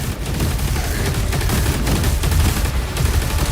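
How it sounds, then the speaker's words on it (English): A plasma gun firing in Doom: The Dark Ages, a dense, loud, continuous barrage of rapid shots with no pauses and no talking. "Plasma gun test in progress."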